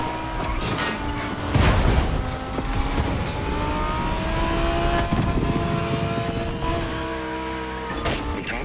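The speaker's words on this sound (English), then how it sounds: "So you're driving a Lamborghini Huracan Performante with a special Lbwk performance flavor." A modified Lamborghini Huracan Performante with LBWK tuning roars steadily through a racing video game, its engine note holding a loud, continuous drone with rising and falling revs and no voices.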